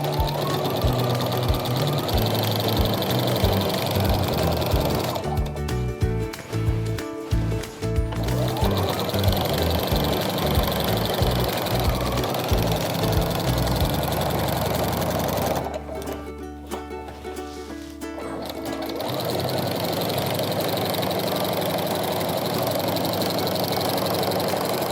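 A sewing machine fitted with a walking foot quilts straight lines, running in a fast steady mechanical hum with brief stops and restarts, sitting close and alone with no talk.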